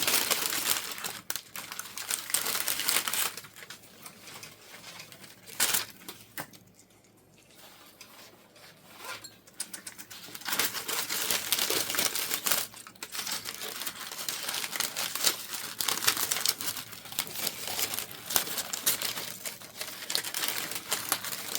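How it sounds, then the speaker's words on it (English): Plasticky indoor-outdoor ribbon is handled close up on an old wreath, giving bursts of crisp crinkling and rustling with a short quieter pause partway through. "Now this is an indoor-outdoor ribbon, so you can use this inside or outside. So it's got kind of a plasticky feeling to it."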